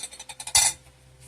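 Flour-coated blueberries are folded into lemon pound cake batter in a bowl: light, evenly spaced ticks of a utensil against the bowl, then one louder clattering scrape before it goes quiet.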